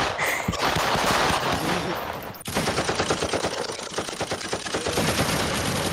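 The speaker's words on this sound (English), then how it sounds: "I got her. Opening fire." Rapid bursts of automatic gunfire in Roblox, loud and close, a dense run of shots, a brief break, then a long steady rattling volley.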